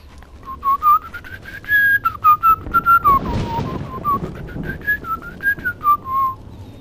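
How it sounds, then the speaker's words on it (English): A person whistles a wandering, improvised tune in short melodic phrases, loud and close, while a game soundtrack plays underneath with a burst of noisy action midway. "I don't know what I just whistled."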